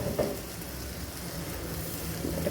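Butter chicken mixture with added water being stirred in a pan, a soft continuous sizzle and simmer with faint scraping, close by and steady without speech.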